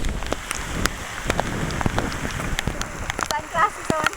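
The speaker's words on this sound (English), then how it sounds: "Rain!" Rain falls steadily, with patters and drops hitting nearby surfaces during a bike ride in Giritale. The sound is continuous and fairly close, with a brief voice near the end.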